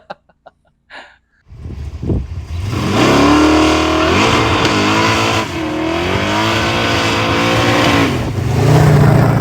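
A few clicks, then a Holden Kingswood's 521 big-block V8 starts and revs hard, the pitch rising and falling through several loud, throaty pulls close by.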